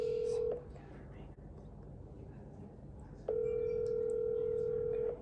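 A phone call is placed, a steady electronic tone sounding briefly, a pause, then a longer continuous ringback-like tone, fairly loud and close.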